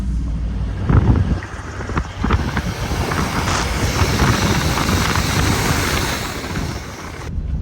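The snorkel on a Toyota Land Cruiser LX V8 draws in air while the vehicle drives a gravel road in the Namib Desert, a steady, loud whooshing roar with low engine rumble and occasional gusty swells.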